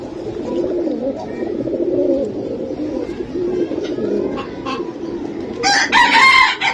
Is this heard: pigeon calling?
yes